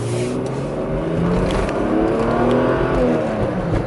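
Mercedes W124 station wagon accelerating hard, its engine note rising steadily and loudly as it pulls, heard from inside the car with no talk.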